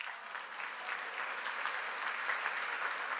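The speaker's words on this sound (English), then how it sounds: "I love any room that claps for response rates" Applause from a luncheon audience fills the room in a dense, steady wash of clapping that holds level throughout.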